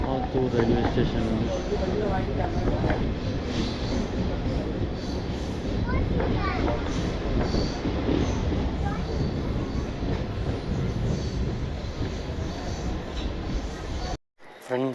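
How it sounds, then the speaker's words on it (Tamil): Train noise at Attur railway station: a steady, loud rumble of rail cars with clattering wheels and some squeal, voices mixed in, ending in a brief cut. "Attur railway station."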